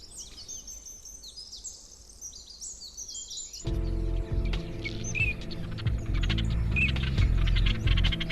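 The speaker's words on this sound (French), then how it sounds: "Seuls les appels de nombreux oiseaux troublent le silence." Many birds call over a misty stretch of water and reeds along the Tiber, starting as clear, scattered chirps and whistles, then mixing with a steady low rumble and more distant calls.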